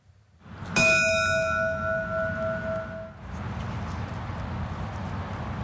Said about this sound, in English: Each toll of the bell marks a loss, a somber reminder of the price paid in service to others.